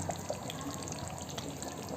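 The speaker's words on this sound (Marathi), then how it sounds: "मी एका साईडला गरम पाणी ठेवलेलं आहे, आपल्याला लागलं तेवढं टाकायचं" Hot water is poured into garlic mutton curry cooking in a pressure cooker. The splashing trickle runs close and continuous, with small drip-like splats and no talking.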